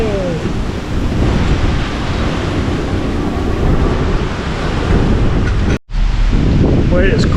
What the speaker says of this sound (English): Boy, it's crazy windy out here.